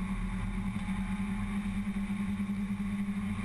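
A Ford Fiesta race car in UK Ford Fiesta Championship Class C racing at Silverstone, on the Wellington Straight, gives a steady, loud engine drone with a strong low hum throughout.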